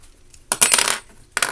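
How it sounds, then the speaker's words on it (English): Metal screwdriver being flipped one-handed from flathead to Phillips bit at a desk, giving a brief clatter of two or three close, bright metallic clicks and rattles, then a short click at the end. "So let me grab my screwdriver."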